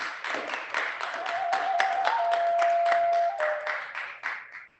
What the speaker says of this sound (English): So another round of applause for Antoine for that.